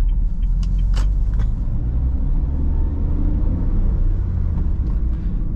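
Honda Brio car accelerating on the road, heard from inside as a loud, steady low engine and road rumble with a few faint rattles and clicks, no talk over it.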